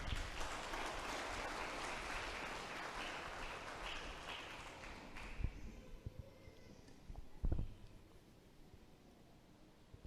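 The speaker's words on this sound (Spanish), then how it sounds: "Vamos a darle un aplauso al Señor" Congregation applause in a church service, a dense wash of clapping that carries loud and steady for about five seconds, then cuts off, leaving a quieter room with a few scattered thumps and stray claps.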